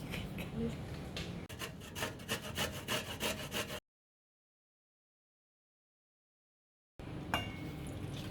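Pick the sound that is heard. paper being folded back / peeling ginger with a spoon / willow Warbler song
peeling ginger with a spoon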